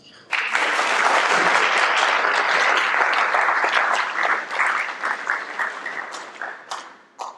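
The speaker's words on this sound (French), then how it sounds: "Je nous demande encore une fois de l'applaudir" An audience at a hospital inauguration ceremony breaks into loud, even applause that holds steady, then tapers into sparser, fading claps toward the close.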